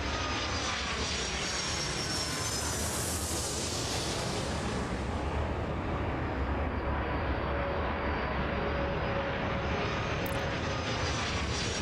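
A jet airliner's engines from the airport game Airport Madness World Edition roar in a dense, steady takeoff rumble, loud and unbroken with no voices.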